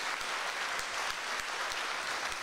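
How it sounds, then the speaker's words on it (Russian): Warm applause from a small concert audience for a performing duo, a continuous wash of clapping hands at steady volume with a few louder individual claps standing out. "Аплодисменты для вас, ребята"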